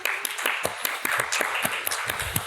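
Festival audience at a screening applauding, a dense wash of many hands clapping with sharper individual claps popping out, steady and fairly close throughout.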